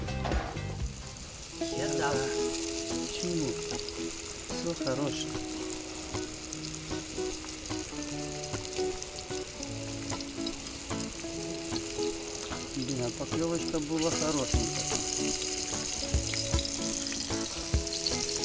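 Small roach fish fry in a pan over a fire on a Dnipro river island, a continuous close sizzle with frequent scraping and stirring sounds and scattered faint background voices.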